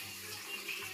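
Water runs steadily from a tap over a bar of soap, a close, even hiss and splash with no pauses, heard alone.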